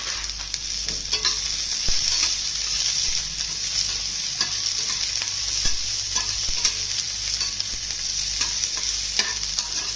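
Green chillies and garlic cloves roasting in a pan over a high flame for coconut-free chutney, with a steady, bright sizzle and frequent scraping stir strokes, loud and close throughout with no talk.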